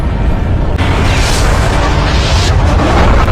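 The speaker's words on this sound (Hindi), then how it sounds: "पूरा अम्ब्रेला हेडक्वार्टर एक भीषण धमाके के साथ राख में बदल जाता है।" A massive cinematic explosion from the zombie action film Resident Evil: Afterlife (2010), as a headquarters is destroyed: a deep, sustained roar and rumble with a burst of crackling debris, loud and continuous throughout.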